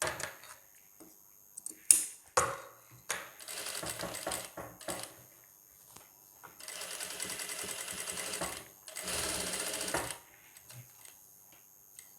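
A sewing machine stitches a designer blouse in three short, rapid bursts separated by quieter handling clicks and rustles. The whirring is close and clear, with no talking.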